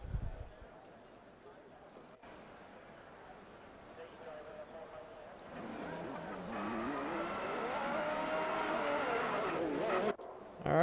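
Formula 1 race cars on a formation lap in a sim racing game at the Netherlands circuit, their engine whine building steadily into a loud sustained roar with rising and falling pitch as the field gets moving, under a commentator's voice.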